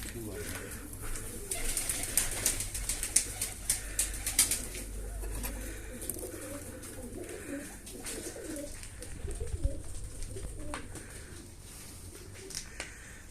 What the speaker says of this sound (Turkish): Her yerde kuş.